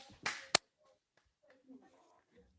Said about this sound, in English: I'm gonna do some claps to make like a spike in the waveform so I can easily see this